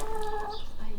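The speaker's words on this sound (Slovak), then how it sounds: "Pozri, koľko nám dali, aké sú dobré, užitočné sliepočky." Hens in a farmyard cluck in short, close, fairly loud calls that repeat in a steady stream, and no voices are heard.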